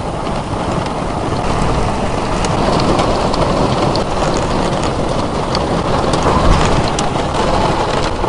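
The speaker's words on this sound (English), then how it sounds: "Raining harder than I've ever heard it rain before." Dense, heavy rain in Austin, Texas pours steadily and loudly, a continuous roaring hiss of drops on surfaces with no letup.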